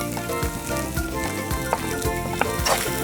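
Hashed lobster seasoned with black pepper and kosher salt sizzles steadily in a pot while being stirred, with soft scraping clicks from the utensil over a continuous frying hiss.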